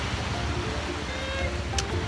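Sea at Romulo Island in the Hundred Islands, a constant wash of surf and wind noise, loud and close, with no voices.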